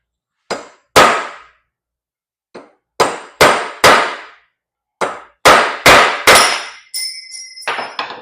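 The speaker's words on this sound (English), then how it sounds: "Whack it with the chisel." A hammer strikes a chisel against an axle bearing race on a 1966 Monaco: about ten sharp, loud metallic clangs in irregular pairs and bursts, closing with a quicker ringing clatter.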